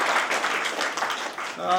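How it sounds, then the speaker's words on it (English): An audience at the opening ceremony of a one-week MSME training programme applauds steadily for a doctor, a dense wash of many hands clapping at even loudness, with voices rising through the noise near the end. "So a big, you can say, clap for Dr."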